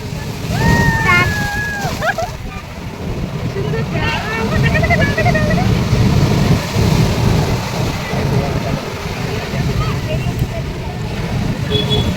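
Sea waves wash in at Digha beach with a steady, loud roar of surf across the whole stretch, while people talk close by over the water.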